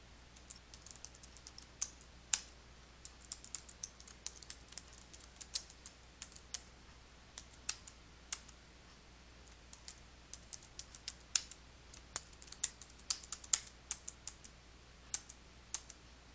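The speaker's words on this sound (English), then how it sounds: "type the information into the first field and then press the Tab key on your keyboard to move to the next field" Data entries are typed on a computer keyboard in Microsoft Word 2019: sparse, crisp key clicks come in irregular bursts over a quiet room hum, close and clear, with no talking.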